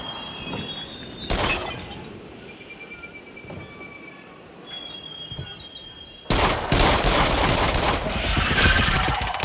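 Rattling rail-car clatter and mechanical rumble from a roller coaster ride in the horror shooter Rush of Blood VR, steady and continuous, surging abruptly louder and denser partway through, with no talk.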